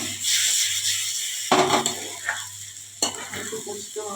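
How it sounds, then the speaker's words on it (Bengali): Potatoes stirred in a frying pan of spiced oil, with steady sizzling and frying underneath sharp scraping strokes of a spoon against the pan, close and loud. "আলুটা নেড়ে দিতে হবে চারপাশ থেকে, যাতে ফোড়ন না লেগে যায়"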